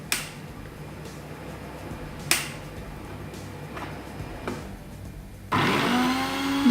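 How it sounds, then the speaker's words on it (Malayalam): An electric mixer grinder whirs into a loud steady spin near the end while blending homemade mayonnaise, after a few sharp clicks and taps on its jar and lid. "നമ്മളിത് അടിക്കുന്ന സമയത്ത് നമ്മൾ സാധാരണ മിക്സിയുടെ വലതുഭാഗത്തേക്ക് തിരിച്ചിട്ടാണ് അടിക്കുക"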